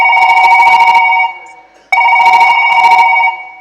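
A loud, close telephone ringtone announces an incoming call in a comic folk stage play, sounding in two bursts with a short gap between them.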